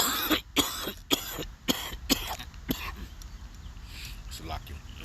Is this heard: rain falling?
no